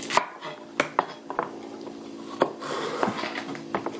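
A knife chops diced vegetables such as celery on a cutting board for homemade chili, making sharp uneven thuds at an irregular pace over a faint background murmur.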